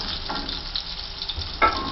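A hamburger patty fries in a pan, a continuous close sizzle with soft crackles and one brief louder spatter, no one speaking.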